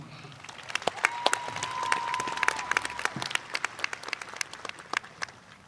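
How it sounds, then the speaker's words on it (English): Applause from a high school graduation audience, a dense crowd of clapping hands that swells and continues steadily for several seconds, with a faint sustained tone partway through. "Please join me in giving a warm round of applause for Anahi Ortiz."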